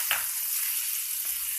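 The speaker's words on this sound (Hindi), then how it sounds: "साथ ही साथ बारीक कटा हुआ टमाटर डालूंगी।" Chopped tomato hits a hot frying pan of capsicum for pav bhaji, giving a soft steady sizzle throughout with a brief stir-like clatter near the start and another light scrape later.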